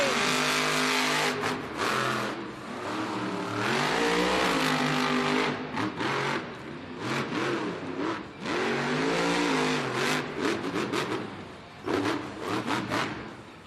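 Monster Jam monster trucks race in an indoor arena in Baltimore. Loud engines roar and rev in rising and falling sweeps, with bursts of crackle as they accelerate.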